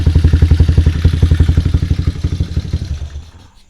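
A motorcycle engine with a PWK carburetor, freshly tuned, idles alone with a steady, loud pulsing beat, the firing pulses gradually fading and thinning toward the end as it dies down.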